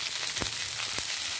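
Potatoes and drumstick pieces frying in a pan, a steady close hiss of sizzling oil with a couple of soft scrapes from stirring.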